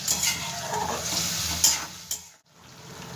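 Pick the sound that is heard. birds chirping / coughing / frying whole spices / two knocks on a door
frying whole spices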